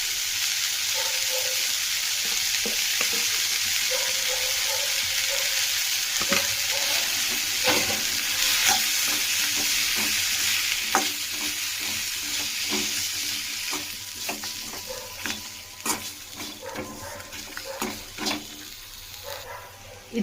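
Ingredients with chili powder sizzle in hot oil in a pan for brinjal kuzhambu, a steady frying hiss broken by scraping stirs and clinks of the spoon, close up, quieter near the end.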